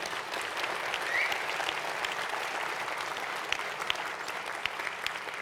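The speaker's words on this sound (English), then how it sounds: "We should clap for that." Dense, even applause rolls through the room at ADARC's Irene Diamond Award Gala, a sustained wash of many hands clapping at moderate level with a few sharper claps near the end.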